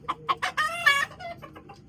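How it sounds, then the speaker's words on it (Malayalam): Several chickens cluck inside a loft coop, a run of short, close clucks and one longer squawk in quick succession, with no talking. "ഇതിന്റെ അകത്ത് കുറച്ച് കോഴികളുണ്ട്."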